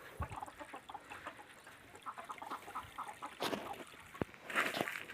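Chickens and ducks clucking and quacking in short scattered calls, fairly close, with a few louder bursts of flapping or squawking toward the end.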